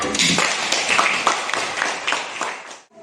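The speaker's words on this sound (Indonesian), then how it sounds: "Tepuk tangan kepada Bella." Audience clapping for a girl named Bella at a school history event, with steady dense hand claps and faint scattered voices running for about three seconds before dying away.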